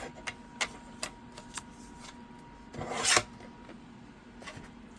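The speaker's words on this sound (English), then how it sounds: "I can cut this on the guillotine." Paper trimmer guillotine slicing through cardstock, a few light ticks and taps, then one brief rasping cut in the middle, close and fairly quiet.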